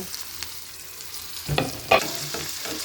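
Ground pork frying in a pan, a steady background sizzle broken by two or three clattering stirs of a utensil against the pan, close by, with no talking.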